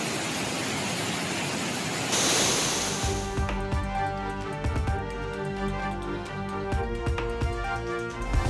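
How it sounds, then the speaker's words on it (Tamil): Suruli Falls rushes in flood after heavy rain, a loud and steady roar of water for a few seconds. Rhythmic music with beats then takes over. "சுருளி அருவியில் வெள்ளப்பெருக்கு"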